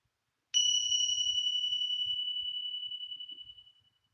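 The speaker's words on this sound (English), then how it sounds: "You will hear the sound of a bell, listen to its sound" A single meditation bell is struck once, ringing clear and bright, then its tone slowly fades away into silence over a few seconds, with faint low shuffling underneath.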